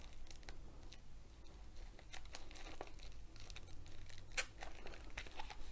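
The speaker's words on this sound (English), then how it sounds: "I don't know if I can actually manage to rip this." Thin diamond painting release paper crinkles and tears in short, quiet rips and rustles, close up and irregular, with no talking.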